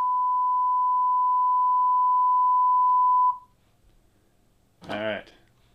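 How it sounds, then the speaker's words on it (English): A steady, pure sine wave test tone in Sony Vegas holds for about three seconds and then cuts off, followed by a brief spoken word. "Now here comes the sine wave,"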